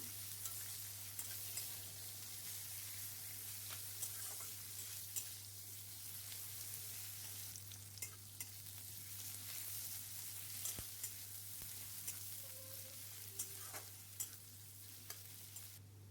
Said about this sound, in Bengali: এরপর এতে আমি একটা পেঁয়াজ কুচি দিয়ে দেব, দিয়ে ভালো করে এটাকে আমি ভেজে নেব।